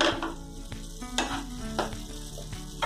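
Pav bhaji vegetables cook in butter in a pan with a steady sizzle, broken up by several sharp scrapes and knocks of a spoon being stirred through them, close by and with no voices.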